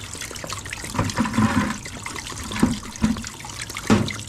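Water dribbles and gurgles out of a circulation pump just removed from a boiler, irregular trickling splashes with louder spurts near the mic, no talking.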